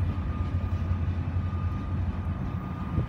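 A CN ballast train passes at Soo Valley, a steady low rumble of rail cars rolling by without a break, heard alone.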